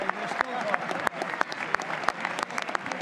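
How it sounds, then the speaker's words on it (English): The chamber of the US House of Representatives fills with sustained clapping from many hands during a presidential address to Congress, dense and continuous, with a few sharper claps standing out close by. "Marco Rubio's applauding. It's great."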